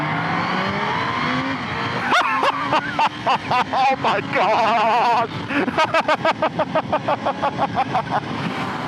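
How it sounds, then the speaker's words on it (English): A supercharged Kawasaki ZH2 motorcycle accelerates hard and close, its engine note climbing through repeated gear changes with rhythmic pulsing revs. A rider's brief excited exclamation cuts in partway through. "Listening to that supercharger twirl and make noises"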